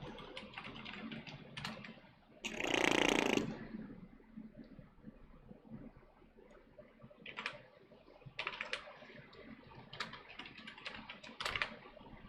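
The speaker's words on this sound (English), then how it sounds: "I think I typed that wrong." Typing on a computer keyboard connected to a Raspberry Pi: irregular clusters of light clicks with pauses between bursts, close and moderately quiet, with one brief louder rustle near the start.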